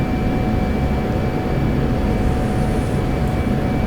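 An F-16 jet on final approach to a runway in the DCS flight simulator gives a loud, steady engine roar that holds evenly throughout, with no voices.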